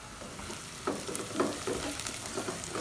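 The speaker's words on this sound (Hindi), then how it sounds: "अब हम मसाला भुनेंगे।" Masala sizzling in a pan for roasted chana dal, a steady close frying hiss with soft stirring scrapes and small crackles, no voices.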